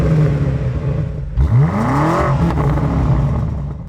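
A new BMW M5 with a 727 hp hybrid engine, idling with a deep rumble, then revved hard once, the pitch sweeping up and falling back, loud and close.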